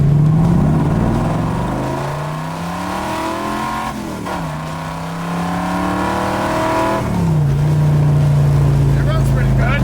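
A 427 big block Corvette engine revving, with a loud, close, deep rumble that climbs in pitch, dips and rises again through several throttle blips, sustained for about ten seconds.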